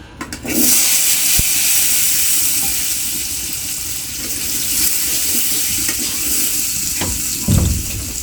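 Potatoes frying in a pan in a home kitchen, a continuous bright sizzle with a few sharp crackles and a brief rustle near the start, no talk.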